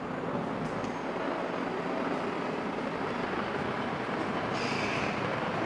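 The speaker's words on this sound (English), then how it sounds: "That's where the trains go underground or come out from underground." A London Underground tube train running, heard as a loud, unbroken rail rumble and roar with a steady wash of noise and no voices.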